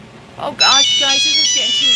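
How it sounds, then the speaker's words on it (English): A mobile phone ringtone rings loudly and insistently, a bright melodic chime that cuts in suddenly and keeps playing while a person talks over it. "I just checked my volume for alerts and ringtone."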